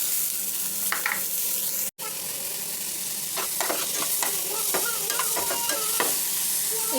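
Tomatoes frying with onions in oil in a pan for a chickpea curry, a steady broadband sizzle with clustered scraping and stirring clinks near the end, close and fairly loud, with no talking.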